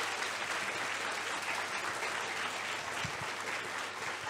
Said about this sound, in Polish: Jakieś brawa myślę, że się przydadzą.